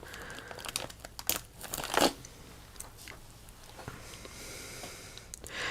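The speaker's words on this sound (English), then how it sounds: "Let's see if I can open this carefully. It's in a zipper top bag" Close, quiet crinkling of a zipper-top plastic bag being handled and pulled open, with sharp rustles and a brief tearing burst in the middle.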